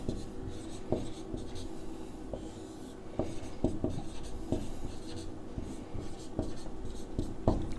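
Pen or chalk scratches and taps as a Pythagoras theorem solution for a Class 10 maths lesson is written, with short strokes and light knocks at an uneven pace, fairly close with no talk.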